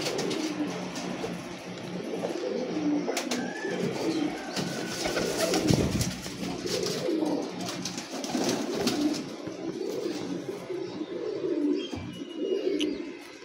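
Teddy Bullet breed pigeons cooing in a loft in Lahore, soft repeated throaty coos layered over one another with rustling and occasional sharper wing or body noises close by, no talking.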